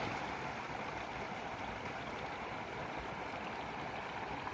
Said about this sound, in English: That sound you hear in the background is the creek that runs by our campsite